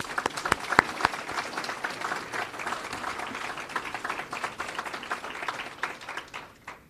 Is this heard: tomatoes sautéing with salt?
no